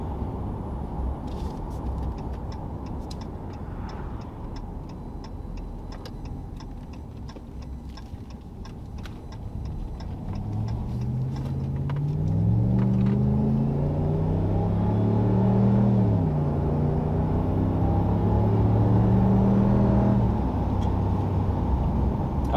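2022 RAM 1500 fitted with a Karnage Big Body Series 1 muffler cruising in high gear with an 8-speed transmission, a low, quiet exhaust rumble under steady ticking that swells to a smooth droning tone partway through.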